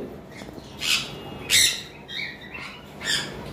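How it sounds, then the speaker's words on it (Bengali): Caged pet lovebirds and cockatiels, breeding pairs kept for sale, giving several sharp chirps and squawks at irregular intervals over a low background hum, with no talking. "এখানে এক পেয়ার লাভবার্ড রয়েছে সাদা"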